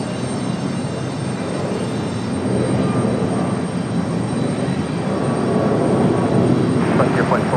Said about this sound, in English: Oh, Frontier going around.